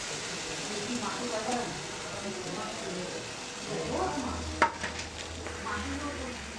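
Raw mango pulp cooks in a frying pan over a gas flame, making a soft, continuous sizzle with gentle stirring scrapes and one sharp metallic clink near the end, while a voice talks over it.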